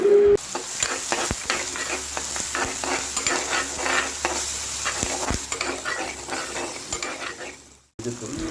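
Tomatoes sizzle and fry lightly in a hot pan while a utensil stirs and scrapes, steady crackling with occasional clinks, close by.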